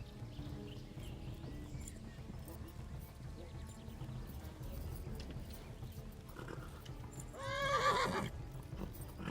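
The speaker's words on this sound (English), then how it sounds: "Go on, horse, you got this." A horse in the game Kingdom Come Deliverance gallops with a continuous clip-clop of hooves, then lets out a loud, close whinny near the end, over a busy background of rumble and game sounds.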